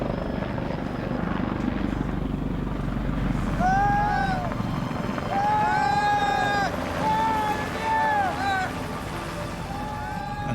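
A helicopter's steady rotor thudding drones throughout in a mountain valley, with a person speaking over the engine noise.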